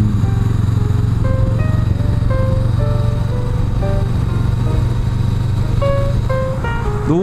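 A Honda Rebel 500 and a Suzuki GSX-S125 ride together, a steady loud engine drone with a low rumble and shifting higher whine, heard close and constant throughout.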